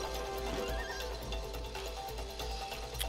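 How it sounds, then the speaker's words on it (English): A horse neighs in the It Takes Two video game, a whinny with hoof clip-clop over busy game music and effects, steady and fairly loud throughout. "Horse."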